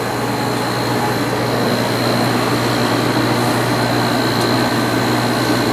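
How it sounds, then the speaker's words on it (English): A Matsushita compressor inside a Sharp air conditioner runs with a loud, smooth, steady mechanical hum and a faint whine, close by, unchanging throughout with no speech. "But you gotta love these Matsushita compressors. They sure run smooth and they sure sound good."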